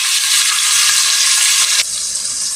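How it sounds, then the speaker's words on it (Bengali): Chopped large onion sizzling as it drops into hot oil in a pan for a rohu fish and bottle gourd curry, a loud steady hiss that drops slightly in level near the end. "তেলটা গরম হয়ে গেছে, এখন দিয়ে দিচ্ছি বড় সাইজের একটি পেঁয়াজ কুচি।"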